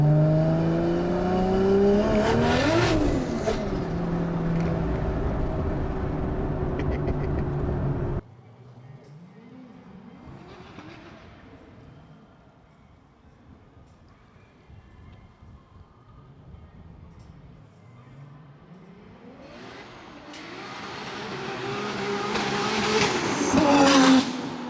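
A Toyota Supra engine revs hard twice, loud and close, with rising and falling pitch. Between the two revs it drops to a quieter idle.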